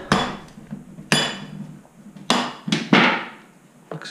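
A hammer taps the arms of a final drive during disassembly, giving five or six sharp metallic strikes at an irregular pace, each ringing briefly, close and fairly loud, with no talking.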